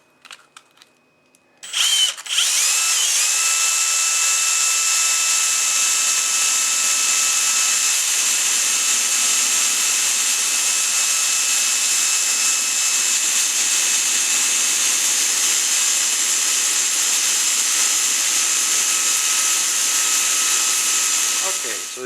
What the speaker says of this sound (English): I'm just going to hold the sandpaper on the edge of the bench. This is 150 grit sandpaper.